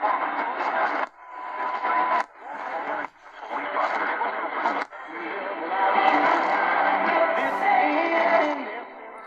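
Evening medium-wave AM broadcast of a station out of Fort Atkinson, Wisconsin, received on a Digitech AR-1780 shortwave radio, coming through in bursts with short dropouts before settling into steady music.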